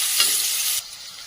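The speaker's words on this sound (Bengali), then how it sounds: "তো এবার কিন্তু পেঁয়াজটা খুব ভালো করে আমি ভাজা করে নেব।" Onions hiss and crackle loudly in hot oil, with a brief stirring scrape, before the sizzle drops suddenly quieter near the end.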